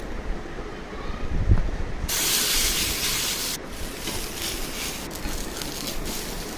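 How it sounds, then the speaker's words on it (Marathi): Thalipeeth frying in ghee on a hot griddle gives a steady, broad sizzle that jumps louder partway through and keeps hissing evenly, close and alone without talk. "तव्यावर तूप घालून थालीपीठ थापून घ्यायचे"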